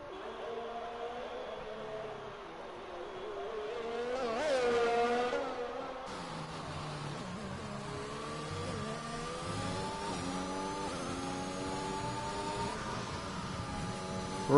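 McLaren race car engine in a sim racing game at the Mexico circuit, a steady high-pitched whine that rises and falls with gear changes, continuous and close, with commentary talking over it.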